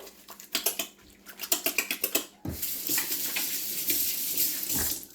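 A kitchen tap runs for hand washing before kneading focaccia dough, a steady close rush of water that starts abruptly after a few seconds of quick clicking and rattling.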